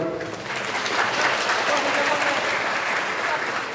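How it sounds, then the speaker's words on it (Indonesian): A school audience applauds steadily for a student called up to present a computer assembly project, a continuous close burst of many hands clapping. "tepuk tangan dulu"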